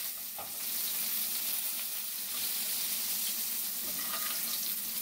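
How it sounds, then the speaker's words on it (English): Scallops sizzle steadily in a pan as hot oil is spooned over their tops, a loud, close, continuous frying hiss with faint spoon clinks. "like bathing it in hot oil, because I only want to sear on one side"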